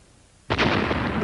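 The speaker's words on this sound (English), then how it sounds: "The final explosion completely destroys the starship" A miniature Star Trek starship model blows up as a film special effect, a sudden loud blast that erupts halfway through and roars on as a sustained rumbling burst.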